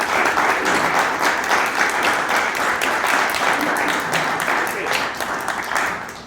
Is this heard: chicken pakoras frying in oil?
no